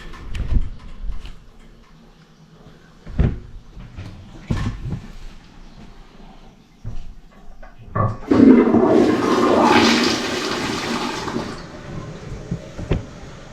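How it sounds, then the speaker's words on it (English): A toilet that had been giving off a bad smell flushes in one long, loud rushing surge of water lasting several seconds, preceded by scattered clicks and knocks and ending in a softer trickle. "One last flush."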